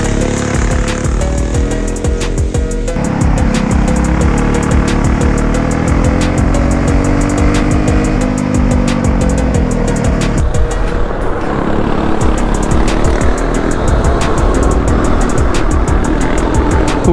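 Predator 212cc go-karts racing on a track, small engines revving loudly and continuously with rising and falling pitch as they accelerate and pass, a steady close buzzing drone throughout.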